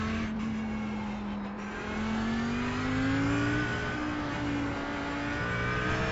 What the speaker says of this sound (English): Alright Chris, there's a car exiting the pits